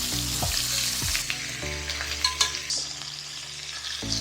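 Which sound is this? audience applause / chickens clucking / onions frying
onions frying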